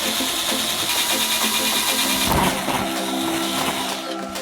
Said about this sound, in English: we drill the lower one.